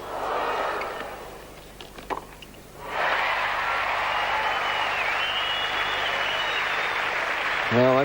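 A crowd at a 1989 Sydney tennis quarterfinal bursts into sustained loud applause after a winning point, following a brief stretch of quieter court sound and murmuring.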